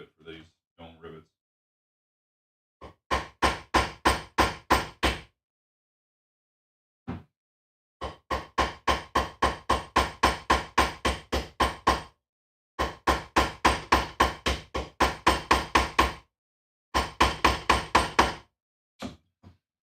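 Hammer striking dome rivets on an anvil while assembling a leather armor cuirass, coming in fast rhythmic bursts of sharp metallic blows separated by short pauses, close and loud.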